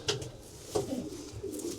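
Vandenebelle racing pigeons cooing close by, several soft throaty coos spaced across a couple of seconds over a quiet loft background.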